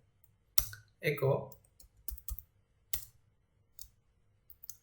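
Keys click on a computer keyboard in irregular bursts while PHP code is typed, close up, with someone talking over part of it.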